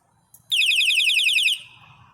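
A loud 140-decibel electronic bicycle horn blares for about a second with a piercing, rapidly warbling tone, starting and stopping abruptly over faint background noise.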